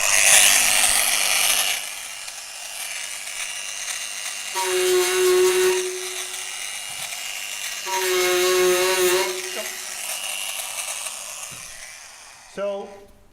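A Tyrolit HD abrasive disc on a grinder runs against a weld spot, starting with a harsh high-pitched grind, then settling into two whining bursts of grinding separated by quieter stretches, close up and loud.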